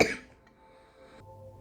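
A single short dry cough bursts out at the start from someone with a dry throat, then fades into quiet room tone with a faint hum.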